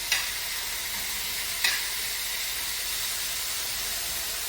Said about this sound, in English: You're going to hear a lovely nice sound as the olive oil hits the pan